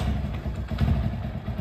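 Motorcycle engine running nearby, a low rumbling idle with light rattling that holds fairly steady at moderate level.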